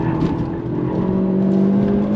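A 2022 Hyundai Elantra N accelerating hard on a race track, its engine holding a loud, steady, rising drone close by, with no talk.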